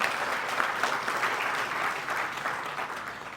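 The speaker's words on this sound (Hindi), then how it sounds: "आप सबके लिए जोरदार तालियां हो जाए" An audience at a training session gives a loud round of applause, dense continuous clapping from many people sustained throughout without a break.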